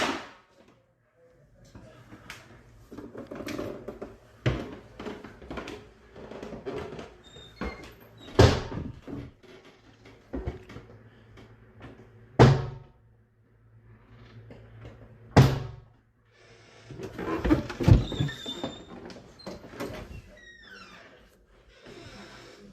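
An indoor door swings open and shut repeatedly, giving several sharp knocks and slams spaced across the stretch with quieter creaks and rattles between them in a hushed room.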